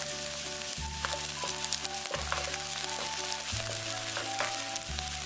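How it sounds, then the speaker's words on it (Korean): Chopped green onions sizzle gently in cooking oil in a pan heated over low flame, a soft continuous fry with a low background hum and occasional stirring clicks, no voices. "약불에 달궈진 팬에 분량의 식용유를 두르고 파를 넣어 파기름을 내줍니다."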